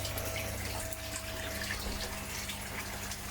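Water pours steadily over the spillway of a backyard koi pond built from an IBC tank, making a constant, even rushing wash with no voices.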